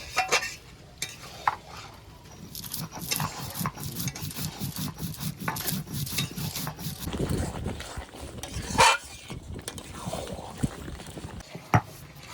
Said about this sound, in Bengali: এবার তেজপাতাটা বেটে নেব।